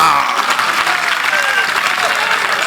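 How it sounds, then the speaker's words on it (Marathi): Loud, continuous applause from a crowd at a political rally in Akole, welcoming party workers arriving from the plateau; the clapping stays dense and steady throughout. "पठारावरून आलेल्या कार्यकर्त्यांच जल्लोषात टाळ्या वाजून स्वागत करा"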